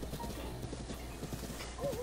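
Horse hooves in The Legend of Zelda: Breath of the Wild, a quiet run of rhythmic clip-clop steps at a steady pace over low background ambience, with a faint brief whinny-like tone near the end.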